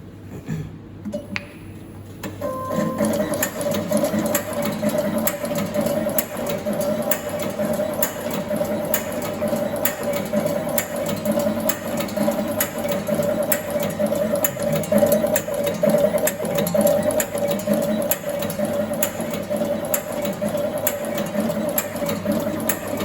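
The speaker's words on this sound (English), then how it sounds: "this is the operation video for the stripping machine" A wire cutting and stripping machine runs continuously, giving a steady mechanical hum with rapid, regular clicking and ticking throughout, close and fairly loud after a brief quieter start.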